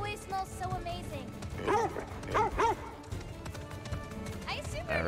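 A dog barks a few times, with short yips, in the video game God of War Ragnarok, mixed with game sounds and hoofbeat-like patter.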